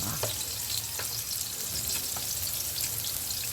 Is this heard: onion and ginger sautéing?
yes